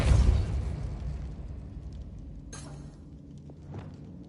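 A Repulsor spell blast in Hogwarts Legacy: a heavy, booming burst of force that rumbles loudly at first, then decays into a low roar, with a sharp crack partway through.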